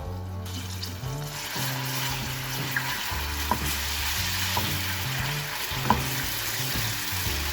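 Garlic ginger paste sizzles steadily in hot oil over a medium flame while being cooked for stuffed karela with keema, with a continuous frying hiss and occasional stirring clicks, close and without talk.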